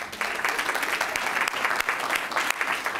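Applause fills a city council chamber, a brief stretch of dense clapping from a seated crowd, fairly loud and sustained, with no talk over it.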